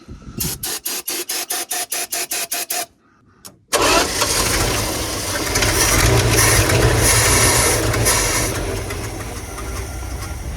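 A long-abandoned Dodge D-600 truck with a newly fitted, unadjusted carburetor cranks in a rapid series of evenly spaced starter turns, pauses briefly, then catches or keeps cranking with a loud, sustained, rough engine roar.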